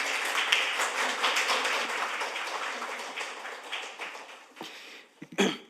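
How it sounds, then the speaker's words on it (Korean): An audience in a National Assembly meeting room gives steady, dense applause that tapers off toward the end, leaving a few scattered claps and small bumps. "여러분 큰 박수로 맞아주시기 바랍니다"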